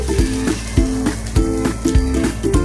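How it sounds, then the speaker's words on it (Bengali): Hot water poured onto fried rice in a pot for homemade Puran Dhaka beef biryani, bursting into loud sizzling and bubbling with repeated rhythmic clanks and stirring, close and without talk. "চালটা ভাজা হয়ে গেছে, এখন আমি এর ভিতরে দিয়ে দেবো গরম পানি"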